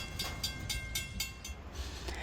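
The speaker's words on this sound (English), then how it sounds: "The train has crested the hill and will now get to coast downgrade to Thurman." A freight train rolls downgrade toward Thurman after cresting a hill on the Loup Creek line, giving a steady mid-distance rumble with regular rail clicks and a faint high whine, no voices.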